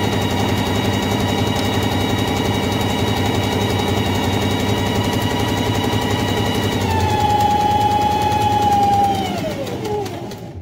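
A sewing machine runs continuously while stitching a seam forward, giving a loud, steady mechanical whir that shifts slightly in tone partway through before winding down at the end.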